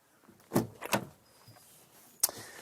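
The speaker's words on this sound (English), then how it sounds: "Enter in through these wide opening doors" A Volkswagen Golf SV 2014 door opens with a couple of soft mechanical clunks and a rustle, then a sharp click near the end, all close and fairly quiet.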